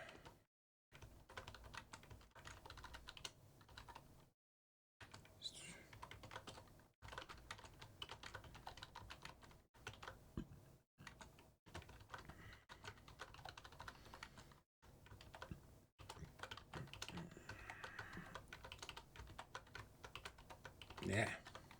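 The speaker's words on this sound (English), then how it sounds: "I'm used to writing on this keyboard." Someone types on a computer keyboard, fast clusters of crisp close key clicks broken by brief pauses, running for about twenty seconds.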